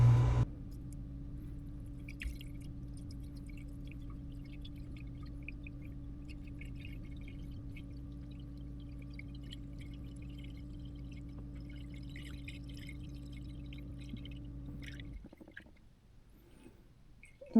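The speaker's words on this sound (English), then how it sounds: "let me fill it up with some more coolant and keep rolling." Coolant poured into a Volvo TAMD74 engine aboard a Silverton 42C boat, a steady low glugging flow with faint gurgles over a constant hum that ends abruptly.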